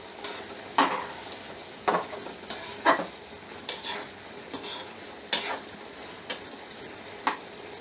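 Dry fish curry being mixed in a pot after the lid comes off, with sharp spoon taps and scrapes against the pot roughly once a second over a soft, quiet simmer.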